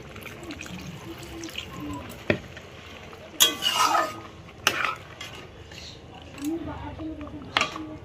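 Water is poured into a cooking pot for a bottle gourd and fish dish, in splashing bursts among clanking pots and clattering utensils, with a voice now and then.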